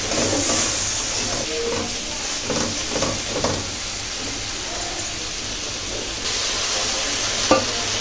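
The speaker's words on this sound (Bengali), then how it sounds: "তো টমেটোগুলো হালকা কষে নিতে হবে যেন টমেটোর নিচে কাঁচা কাঁচা ফ্লেভারটা যেন না থাকে।" Tomatoes with green chillies frying in a pan for a tuna fish curry, a steady soft sizzle under scraping stirs that come and go, close and moderately quiet.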